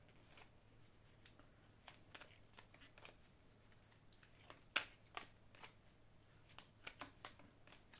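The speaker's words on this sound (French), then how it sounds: "je vais mélanger les cartes" Tarot cards being shuffled by hand, a quiet, close series of soft papery riffles and flicks with irregular sharper snaps, no talking over them.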